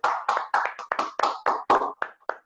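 Applause for the leaders from a small group, about a dozen separate claps in quick irregular succession, close and dry, fading out at the end.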